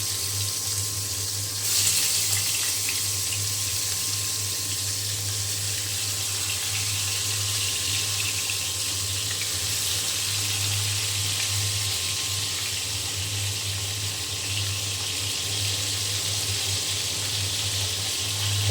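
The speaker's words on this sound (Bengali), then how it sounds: "তো আমার তেল গরম হয়ে গিয়েছে, এখন আমি ভাজার জন্য দিয়ে দিলাম।" Pangas fish pieces fry in hot oil, a loud, continuous broadband sizzle that holds steady throughout over a constant low hum, with no talking.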